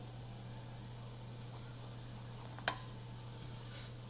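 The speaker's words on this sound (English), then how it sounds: "Right now they're just sizzling, and you want to hear them kind of start to pop a little bit." Cumin seeds sizzle in hot oil with a steady, soft, continuous hiss, broken by one brief sharp tick near the end; the sound is quiet, and no one speaks.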